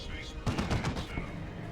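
Plasma cannon and heavy bolter fire in Dawn of War 2 comes as a quick rattling burst of repeated thuds and cracks over a steady battle rumble, mid-distance and moderately loud.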